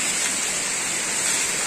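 Steady rushing roar of the Sendang Tlimo waterfall in the Kabuh forest, Jombang, a continuous close wash of falling water filling the whole clip with no voices.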